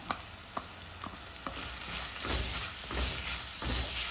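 Crushed spices and clam meat sauté in a pan for a Kerala-style dish, sizzling steadily while a spoon gives several sharp scrapes and knocks against the pan, followed by louder stirring.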